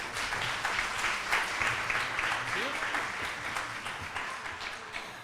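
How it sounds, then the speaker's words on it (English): Audience applause at a historical society's annual meeting, a dense, steady wash of many hands clapping that holds for several seconds, with a few voices murmuring underneath. "Can we have a warm round of applause for Nick?"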